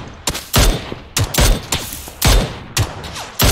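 Gunfire in a shooting game: loud, sharp single shots fired in an uneven rhythm, about eight close cracks with short echoing tails and no talking.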